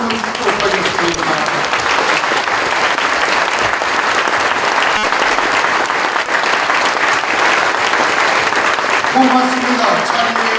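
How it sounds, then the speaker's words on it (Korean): A standing church congregation claps warmly and continuously for about ten seconds at a Korean thanksgiving service honoring retiring elders, a dense, even wash of applause with faint crowd murmur. "성도들 다 일어나셔서 뜨거운 박수로 다시 한번 축복하겠습니다"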